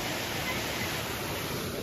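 Swollen waterfall rushing with heavy monsoon flow, a steady, dense roar of crashing water filling the scene without pause.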